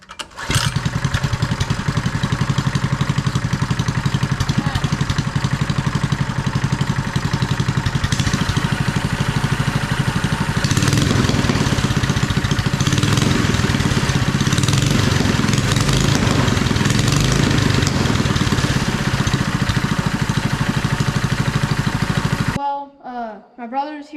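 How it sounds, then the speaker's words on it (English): A mini bike engine idles loudly and steadily up close after its idle has been raised, running without a break for over twenty seconds before cutting off abruptly. "Idle's too low. So we're gonna turn this idle up."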